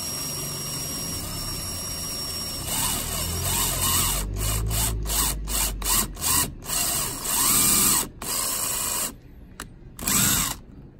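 A power drill whirs steadily, then bites into plastic Jeep Wrangler handle inserts in a series of short stop-start bursts with grinding, rubbing noise between pauses.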